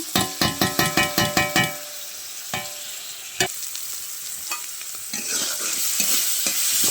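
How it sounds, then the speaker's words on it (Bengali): A spatula scrapes a pan in quick repeated strokes, then a soft sizzle of cumin and ginger paste frying with potatoes continues, with occasional clinks and stirring. "মশলা ভালো করে ভাজা করে নেব।"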